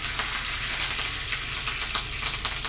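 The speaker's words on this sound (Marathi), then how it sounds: "चांगली मोहरी तडतडली की जिरे टाकून घेऊया जाडसर तेल असं लसूण टाकून घेऊया" Mustard seeds, cumin and garlic sizzle and crackle steadily in hot oil for a Pune-style puri bhaji, a loud close frying hiss dotted with small pops, with no voices.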